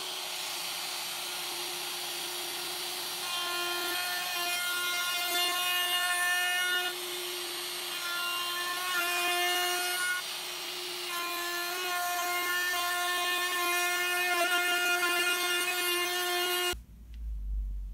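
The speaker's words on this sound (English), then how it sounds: "as I'm running the router around, I'll just stop one side and then start again on the other side" An electric router cuts a slot in wood with a steady high whine, pausing briefly and restarting a few times, then stopping abruptly near the end.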